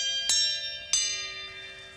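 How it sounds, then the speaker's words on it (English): Two bright bell strikes from a clock chiming in the background, each with a sharp onset and a long ringing decay, the second following about 0.65 seconds after the first, with no voices. "what we need to is just a chime of the clock, which is in the background from the mic"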